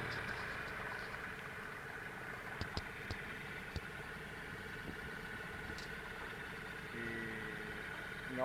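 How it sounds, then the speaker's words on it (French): A small 2.5 horsepower outboard motor on a boat heading to Porquerolles, running with a steady low drone and hum, moderately quiet, with a few faint knocks and clicks over it. "2 chevaux et demi le moteur."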